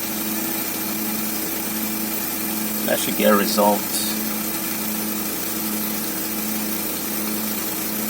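A car engine idles steadily at first start after a rear main seal replacement, with a check engine light showing. Its low, even hum runs throughout, and a person speaks briefly over it midway.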